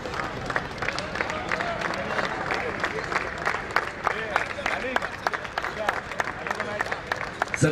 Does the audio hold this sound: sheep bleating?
no